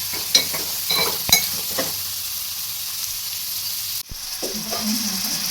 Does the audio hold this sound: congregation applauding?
no